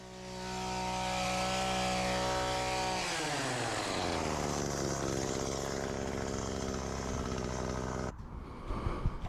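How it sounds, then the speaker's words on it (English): Hedge trimmer cutting back overgrown hedges: a loud, steady motor drone with a buzzing tone that shifts and roughens as the blades bite into branches, then cuts off abruptly, leaving some light clattering. "you wrap up the rough cut on the hedge trimming"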